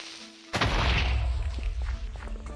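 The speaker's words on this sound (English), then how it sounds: "I heard an explosion." Explosion in the Minecraft video game, a sudden loud boom that bursts in after half a second of near quiet and rumbles away with a crackling, decaying tail.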